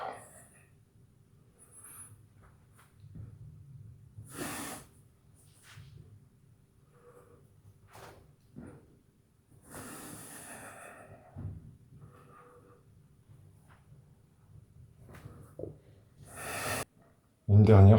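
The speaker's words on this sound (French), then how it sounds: "On inspire vers le bas. On expire vers le haut." A person breathing during a gentle shoulder and posture workout, inhaling and exhaling audibly at a slow pace with distinct breath bursts, alongside quiet movement and rustling.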